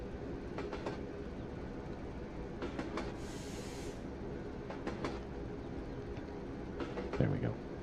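Simulated train on the West Somerset line in Train Sim World rolling downhill, a low steady rumble with rhythmic clicks of wheels over rail joints and a brief hiss, fairly quiet and continuous.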